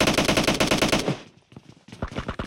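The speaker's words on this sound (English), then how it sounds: "Shooting wildly into the smoke." Rapid bursts of automatic gunfire in PUBG Mobile, fired into smoke during a tournament match, loud and close, then a short lull and a few more sharp shots in quick succession.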